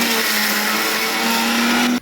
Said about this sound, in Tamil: இப்போது இதை நம்ம நல்லா மிக்சியில் விழுமோன ஒரு பேஸ்ட்டாக அரைச்சிக்கிறோம்.